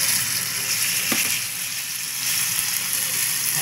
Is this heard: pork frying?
yes